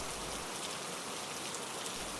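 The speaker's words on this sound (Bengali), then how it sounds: "আজ বৃষ্টি হচ্ছে" Steady monsoon rain falls continuously, a dense even hiss of drops on surfaces with no voices or other sounds breaking through.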